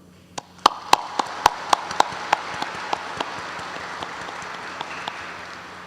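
At a national future-car industry vision ceremony held at a Hyundai research center, sparse individual claps ring out crisply in an uneven series, peaking briefly and then thinning out to a few scattered claps against a quiet room.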